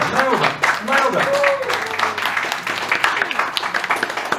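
Audience applause at a stage hypnotist show, clapping mixed with loud voices talking over it, then thinning into scattered claps.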